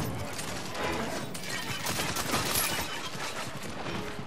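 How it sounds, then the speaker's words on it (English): Dense, continuous gunfire and blast noise fill a chaotic fight in the video game Paladins, steady and moderately loud throughout with no clear gaps. "That grenade is pretty accurate. That grenade is pretty good."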